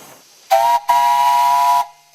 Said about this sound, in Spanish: El vapor sale de la caldera a través de una válvula reguladora y entra en el motor